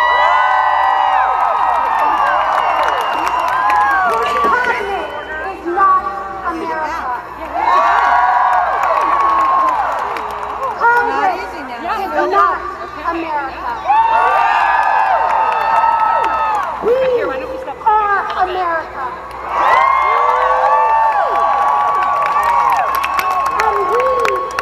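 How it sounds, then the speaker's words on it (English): A vast crowd of about half a million at the Women's March on Washington roars in repeated waves of cheering, whooping and clapping, loud and continuous with distant shouted voices rising and falling. "Did you hear that thunderous applause?"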